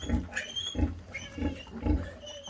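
Piglets near a sow give four rhythmic low grunts in a steady pattern, close and moderately loud, with no talking.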